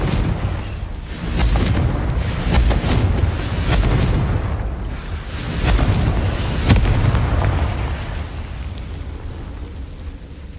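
Repeated Confringo blasting-curse explosions in the Hogwarts Legacy video game roll into one another as a continuous rumbling barrage of booms and crackling bursts, loud and dense throughout with no clear pauses.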